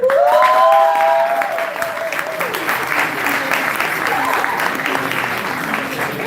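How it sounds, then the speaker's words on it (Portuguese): Audience applause for a prize winner at a church group's monthly plenary, sustained clapping from a crowded room, loud and even, with a short sung or voiced tone rising over the start and light voices beneath. "Palmas para ele."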